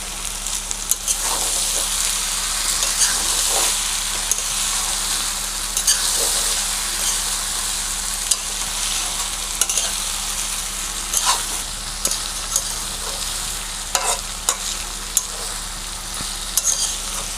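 Cabbage and broken hilsa fish heads fry in a pan with a continuous, even sizzle, while a spatula scrapes and stirs in sharp clicks and knocks at irregular intervals.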